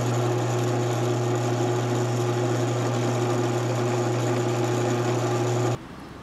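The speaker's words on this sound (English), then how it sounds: "I'm gonna drill out a quarter inch hole" A power drill bores a quarter inch hole into a wooden hornet fishing lure, a steady high-pitched motor whine held at constant speed for several seconds before stopping abruptly.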